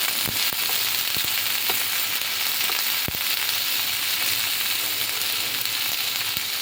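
Pointed gourd peels fry in a hot pan ahead of the dried fish, giving a loud, dense, unbroken sizzle heard up close with a few faint pops and no talking.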